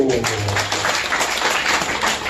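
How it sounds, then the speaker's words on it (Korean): Students at an English conversation lecture in Korea burst into brief, dense applause that stays loud and even for a couple of seconds, with voices mixed in. "박수!"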